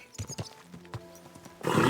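Horse hooves in Kingdom Come: Deliverance II clop in a short, uneven run of four or five close, distinct strikes, then a louder rush of broadband noise takes over at the end.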